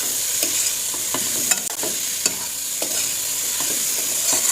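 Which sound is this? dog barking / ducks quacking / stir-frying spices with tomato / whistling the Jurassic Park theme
stir-frying spices with tomato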